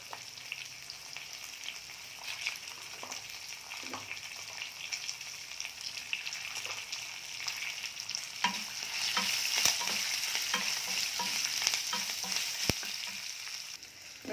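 Small shallots and cumin fry in hot oil for sambar while a spoon stirs them, a bright continuous sizzle with scraping and clinking strokes that grows louder partway through, close and without talk.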